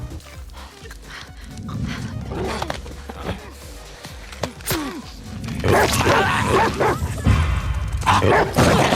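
A dog in the video game The Last of Us Part II barks and whimpers in short, mid-loud bursts, followed by a denser, louder stretch of game sound.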